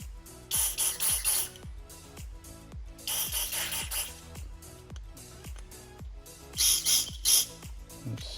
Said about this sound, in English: I'm gonna shove some carb cleaner in that.